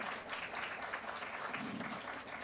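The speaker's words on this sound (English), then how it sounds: "please give them a big round of applause" Faint, distant applause from a symposium audience greeting panelists, an even patter of clapping heard at low level throughout.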